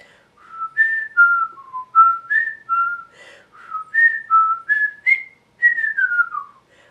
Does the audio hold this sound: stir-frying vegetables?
no